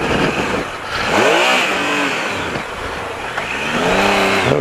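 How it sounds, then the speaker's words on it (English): A Triumph adventure motorcycle pushes through a water crossing on a dirt trail, its engine revved high in two rising and falling surges, close and loud, with water splashing beneath. "Bit of revs, keep the revs up."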